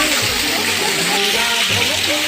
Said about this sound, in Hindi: भगवान शिव शंकर किस तरह से झरना दे रहा है।